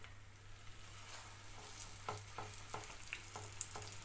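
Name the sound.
potatoes frying in hot oil in a pan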